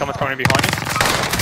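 Gunfire in a World War II–style multiplayer shooter, a sniper firing from a rooftop amid PPSh submachine gun play; a quick run of loud, sharp shots crackles under excited player chatter.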